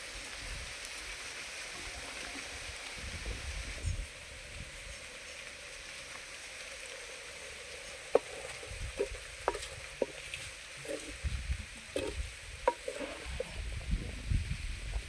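Leafy greens fry with dried prawns in a pan, a steady soft sizzle under irregular scraping stirs and clinks that grow more frequent in the second half.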